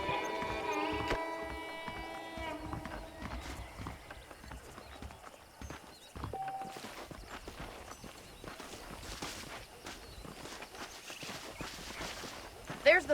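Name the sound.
horses walking, clip-clop, in Red Dead Redemption video game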